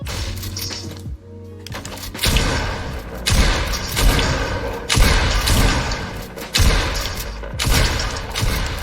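Shotgun blasts in Fortnite Battle Royale, a loud run of heavy booming shots fired every second or so over constant game noise, with no talking.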